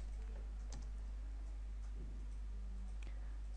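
Quiet keystrokes on a computer keyboard come as a few sparse clicks over a steady low hum, with no voices.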